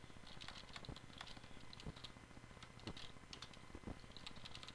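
Keys tapped on a computer keyboard while a router configuration command is entered, a steady run of quiet clicks with a few louder keystrokes, close and alone with no talking.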